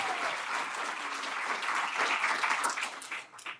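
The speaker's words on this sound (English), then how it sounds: "Yes, round of applause, please." An audience at a poetry gala claps for a poet, a broad, lively round of many hands that holds steady and then tapers off near the end, with no talk over it.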